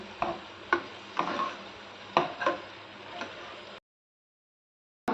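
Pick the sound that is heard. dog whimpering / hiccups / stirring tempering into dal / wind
stirring tempering into dal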